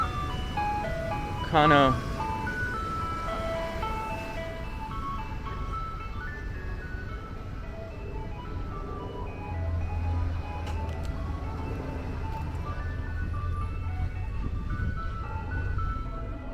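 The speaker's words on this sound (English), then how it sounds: "Oh, this is the Good Humor truck." A Good Humor ice cream truck on a Bronx street plays its tinkling jingle, which sweeps briefly, then passes as a rumbling engine over steady street noise, while a person talks nearby.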